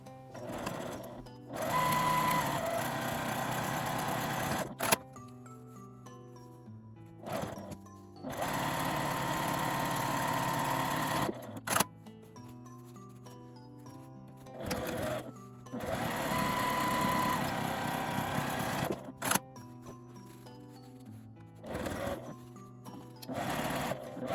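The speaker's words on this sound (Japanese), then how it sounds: "中表に合わせて 両端を1センチの縫い代で縫います。" Sewing machine stitching the side seams of a simple A4 bag, bursts of fast rhythmic whirring stitches separated by pauses and small clicks, heard close and alone.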